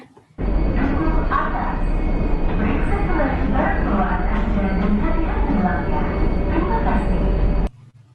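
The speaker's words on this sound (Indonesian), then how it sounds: "Anda berada di dalam rangkaian KRL Komuter Lain tujuan akhir Stasiun Bogor." A steady rumble of a moving KRL commuter train bound for Bogor Station fills the cabin while an onboard announcement speaks over it throughout, ending abruptly.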